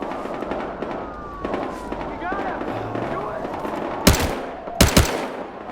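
Gunfire in a co-op heist video game: busy background noise with gliding tones, then two sharp, loud broadband shots near the end, each a short burst, with talk-like sounds faintly underneath.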